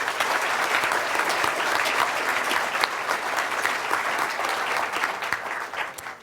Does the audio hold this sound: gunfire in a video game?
no